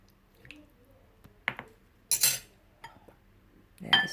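Utensils clink against a bowl while chicken adobo marinade ingredients are stirred together, with a few scattered soft taps and one brief louder scrape and clatter near the end, close and otherwise quiet.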